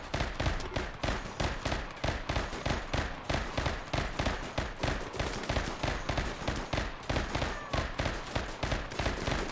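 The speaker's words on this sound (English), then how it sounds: "Jacob, we need you shooting." Rapid, steady gunfire bursts out during RimWorld video game combat, a dense run of sharp repeated shots that keeps going for the whole stretch with no pauses.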